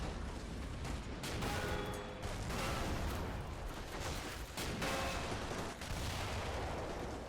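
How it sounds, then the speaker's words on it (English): Artillery fire in Men of War: Assault Squad, a continuous dense roar of booming shots and rumbling blasts that swells and dips over several seconds amid battlefield din. "Some artillery fire."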